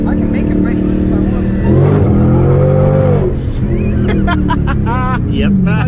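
A widebody Dodge Hellcat's engine roars loudly and close, the revs climbing and falling with the throttle while people talk inside the car.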